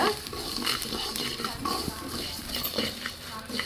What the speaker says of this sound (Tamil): அந்த அளவுக்கு வந்து நல்லா வறுத்துக்கலாம்